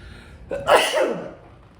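A single sharp sneeze, preceded by a quick inhale, close and fairly loud, then fading out.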